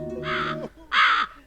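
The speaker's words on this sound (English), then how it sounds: "Get out of here, Raven from CBBC's Raven. You're not even a real bird" A raven gives two loud, harsh caws separated by a short pause, each a drawn-out rasping call, over a low steady hum.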